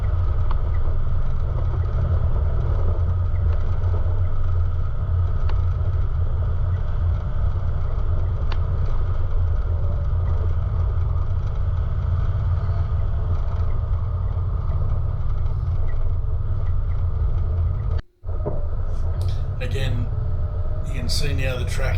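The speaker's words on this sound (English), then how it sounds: "Ready to utilise that engine braking on the descent to keep our speed under control." Off-road vehicle engine braking on a dirt track descent, a loud continuous low engine rumble and drivetrain drone that cuts out briefly near the end before resuming.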